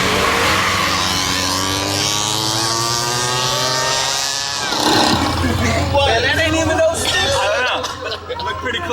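Mini motorbike engines whine and rev during a race, pitch climbing steadily before a burst of louder mixed noise, with people talking over the engines.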